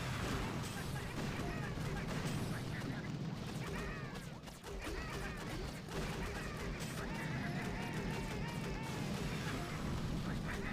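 Cannons and guns fire in the mobile strategy game Boom Beach, a steady barrage of shots and booms that runs throughout, with a voice talking over the battle.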